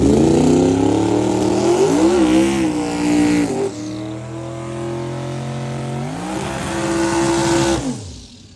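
Drag racing cars, including a dually Mustang, revving loudly at the line before launching, engines climbing and wavering in pitch, then roaring off hard and fading at the end.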